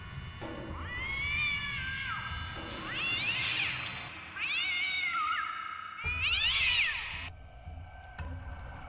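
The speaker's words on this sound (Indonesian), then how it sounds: "Suara kucing itu terus menggema mengelilingi kosanku" A cat meows again and again, long drawn-out cries that rise and fall, fairly close and with no talking.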